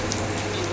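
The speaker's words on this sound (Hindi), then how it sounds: "बारिश भी अच्छी पड़ रही" Heavy rain falling steadily during an evening downpour, a dense continuous hiss of drops on surfaces, close and even, with no talk over it.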